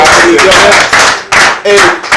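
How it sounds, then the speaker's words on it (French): Loud, rhythmic bursts of clapping at a Christian prayer gathering, pulsing in short waves with a voice sounding through the claps. "on applaudit fort"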